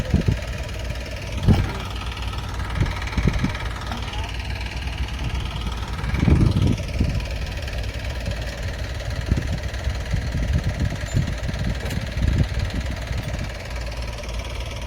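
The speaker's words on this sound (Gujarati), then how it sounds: "આપણે મોટું ટ્રેક્ટર હાલે છે અત્યારે" A large tractor engine runs steadily in a farm field, a low close rumble with a few louder surges, while people talk over it at times.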